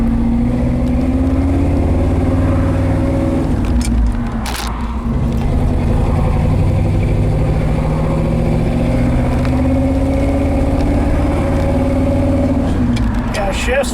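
A 1968 Ford F250 pickup with a newer exhaust system drones steadily on a test drive, its engine note holding a continuous mid-low hum with gentle pitch shifts as it cruises and shifts, loud and close throughout.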